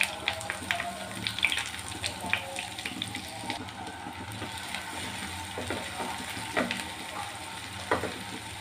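Half a cup of chopped onion hits a pan of lightly fried garlic for a red amaranth and prawn stir-fry, sizzling steadily up close with crackles and stirring scrapes throughout.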